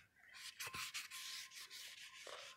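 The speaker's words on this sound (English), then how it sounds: "Wipe it down, and I'm going to do both sides of the rotor." A cloth rubs across a rear brake rotor on a Mercedes CLS in brisk, close, raspy strokes that repeat steadily at low volume.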